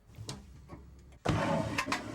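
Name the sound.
high-tech ultra-low flush toilet flushing loudly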